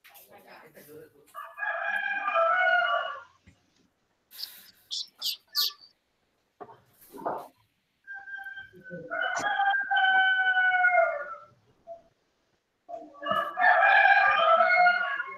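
A neighbouring rooster crows three times in long, loud, harmonic calls spaced several seconds apart, with a few short chirps and clucks from other fowl in the gaps, and no talk over it.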